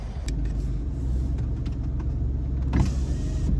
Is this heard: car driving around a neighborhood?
yes